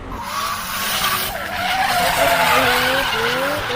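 Cartoon cars race in a night chase, tyres skidding and squealing continuously with revving engines throughout, loud and close.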